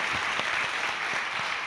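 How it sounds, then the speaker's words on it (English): Audience applauding at a 2019 spring town meeting in Marshfield, a steady dense patter of many hands filling the room without pause. "The passing of Article 10 even received a round of applause from the audience"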